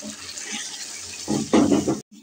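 Water poured from a container into a halwa mixture in a home kitchen, a soft splash swelling into a louder, steady gush for about half a second before stopping abruptly.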